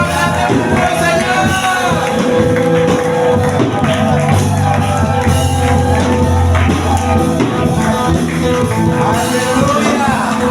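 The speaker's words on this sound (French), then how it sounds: "Est-ce que tu peux acclamer plus fort au Seigneur?" A church congregation cheers and acclaims during worship. Loud shouts and whoops pile onto music and a preacher's voice in a dense, continuous roar with no pause.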